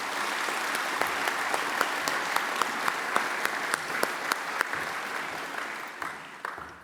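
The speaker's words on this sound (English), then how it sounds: "Can we give him another round of applause, please?" Audience applause rings out at a breakfast marking the anniversary of the National Apology to the Stolen Generations, following a didgeridoo (Yidaki) performance; steady moderate clapping from a room of people with sharper individual claps, tapering off at the end.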